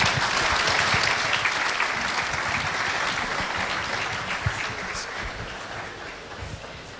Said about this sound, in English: May we give our panelists a round of applause as they leave the stage.